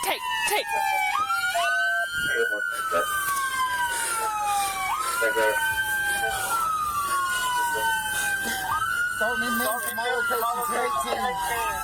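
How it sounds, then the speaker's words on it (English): A police car siren wails loud and close, cycling through repeated rising and falling sweeps with yelp-like bursts, while people shout and talk over it at a tense roadside scene. "Go turn that siren off."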